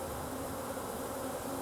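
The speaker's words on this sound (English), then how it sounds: "obviously you can see I'm getting swarmed by the bees" Angry swarming honeybees buzzing around a disturbed hive, a close, continuous droning hum with bees striking near the microphone.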